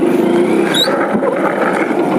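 A motorcycle being ridden accelerates under steady rider control, its engine drone loud and continuous with a brief rising whine midway.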